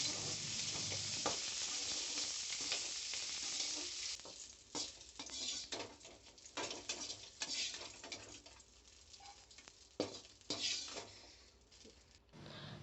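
Okra frying in oil in a pan while being stirred, a steady loud sizzle up front that thins out, broken by repeated scraping strokes of a spoon against the pan.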